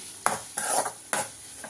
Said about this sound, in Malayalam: നമ്മുടെ ഈ ഐറ്റത്തിനെല്ലാം കടുക് വറുത്ത് ഒഴിക്കാൻ പോവുകയാണേ